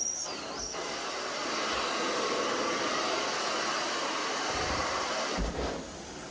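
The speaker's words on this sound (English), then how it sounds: "Yeah, this wand really screams." A loud, steady high-pitched suction roar and hiss from a carpet extractor cleaning wand on a rug, screaming continuously with brief shifts in tone.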